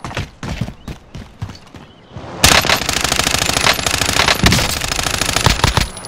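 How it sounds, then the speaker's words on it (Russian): A sentry turret in Call of Duty: Modern Warfare opens fire, a sustained rapid automatic stream that starts abruptly and stays loud and steady after a stretch of scattered shots and clatter. "Работает наша турель часовой."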